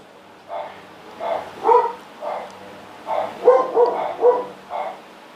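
Several dogs bark repeatedly in short bursts, some yips mixed in, moderately close and fairly loud with brief pauses between volleys.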